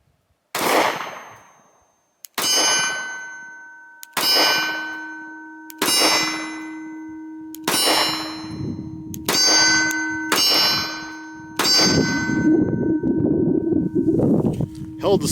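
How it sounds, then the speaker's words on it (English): Around eight shots from a Sig Sauer P365 pistol crack out one after another with uneven gaps. Each ends in a bright metallic ring that hangs on briefly, and the later shots come faster and blur together. "let's run a mag through it"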